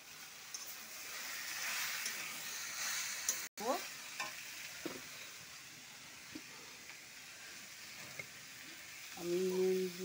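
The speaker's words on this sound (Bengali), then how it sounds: "ইঁচড় আর আলুটা আমি দিয়ে দেবো এই কড়াইয়ের মধ্যে, মশলার মধ্যে আমি দিয়ে একটু ভাজা করে নামাবো" Green jackfruit and potato frying in spices in a wok give a steady, soft sizzle with scraping stir strokes, close and continuous, with a brief gap partway through and a louder clatter near the end.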